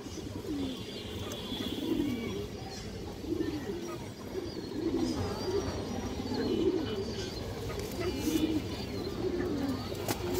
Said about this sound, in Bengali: বড় সাইজের একটা কাজ করানোর কবুতর দর্শক